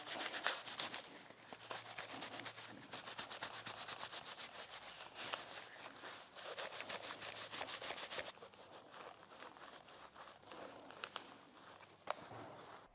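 A detailing polisher sprayed with all-purpose cleaner is scrubbed with a brush, giving quick faint repetitive rubbing strokes in steady bursts, close but soft, with a quieter stretch toward the end.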